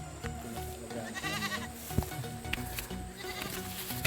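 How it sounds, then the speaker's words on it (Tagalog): A goat bleating repeatedly in a wavering, nasal call, close and fairly clear over a steady background hum outdoors on a rural hillside path. "Kambing ng amo niya."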